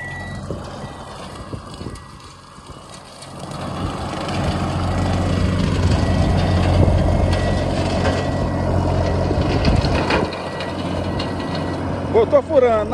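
A cab tractor mows through dense jurema brush, its heavy engine rumble swelling and holding strong with crunching cuts and a reversing beep, while a voice talks over it.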